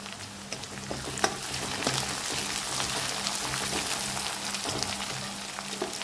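Garlic paste fries in hot oil with a steady, close sizzle and scattered crackling pops, continuous for the whole stretch with no talking.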